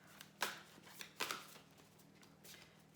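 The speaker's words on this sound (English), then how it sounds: "I'm going to just now pull my Angels and Ancestors cards" Angels and Ancestors oracle cards being shuffled by hand, with two sharp riffling bursts near the start and softer card rustles after, close by with no talking.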